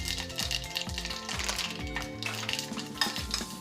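Mustard seeds and urad dal fry in hot oil for a tomato and green chilli chutney, with a steady sizzle, close rhythmic scraping and clinks of a utensil against the pan, and no talk.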